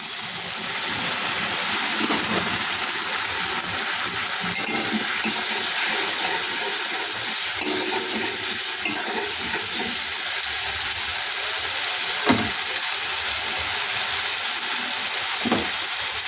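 Water poured into spices frying in oil sets off a loud, steady sizzle that fills the whole stretch, with a few faint clinks over it.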